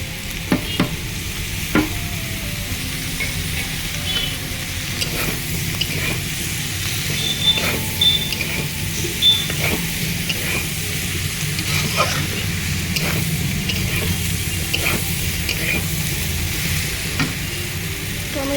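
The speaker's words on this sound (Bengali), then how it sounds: "ভাজা দেওয়ার পর আরও এক মিনিটের মতন আমি ভেজে নেব" Steady sizzling of mixed vegetables and tomatoes frying in a pan, with occasional scrapes and taps of a utensil stirring, continuous and close.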